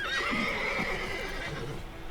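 Horse whinnying loudly in The Witcher as Geralt mounts it, a drawn-out neigh followed by a few hoof clops and rustling, close and clear with no speech.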